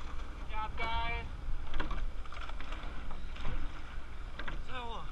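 A rowing crew paddles a boat on open water, steady stroke splashes and water rush under wind buffeting, with voices calling out over the strokes.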